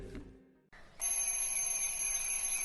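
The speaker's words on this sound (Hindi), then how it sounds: "शर्मा जी के सर के ऊपर अलार्म घड़ी बजने लगी" An alarm clock above a sleeper's head starts ringing, a loud steady electronic ring that cuts in after a brief quiet and continues unbroken.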